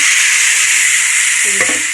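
Cooked vegetables are stirred into onion fried with chopped curry leaves, a loud, steady close sizzle with a brief spoon scrape near the end.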